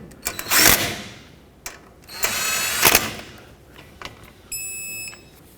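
Torque wrench tightening caliper mounting bolts on a 2009-2014 Honda Fit to 17 foot-pounds, heard as several short mechanical ratcheting bursts close by, then a brief electronic beep at the end.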